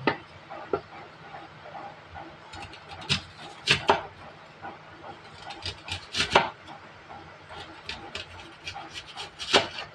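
Onions being chopped on a cutting board with a knife, a string of sharp irregular chops and thuds, close and fairly loud, with no talk.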